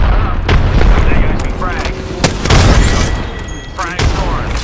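Frag grenade blast in a first-person shooter, heavy booming bursts mixed with scattered gunfire and chatter, loud and dense over several seconds as voices talk over the action.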